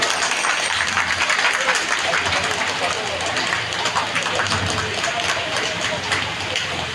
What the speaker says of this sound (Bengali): জোরে করতালি দিয়ে অভিনন্দন জানা